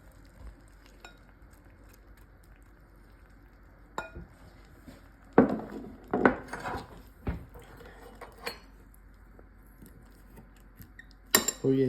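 A utensil cuts into a soft, cheesy potato bake served as a holiday side dish, with sporadic clinks and scrapes against the dish that are loud and clustered, set against quiet pauses.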